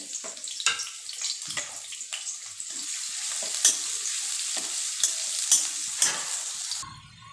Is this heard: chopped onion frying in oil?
yes